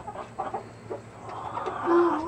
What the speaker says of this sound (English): Chickens are scared.